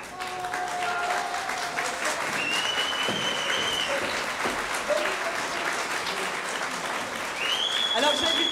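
A theatre audience claps steadily and enthusiastically for the actors for several seconds, with a few cheers and whistles mixed into the sustained applause.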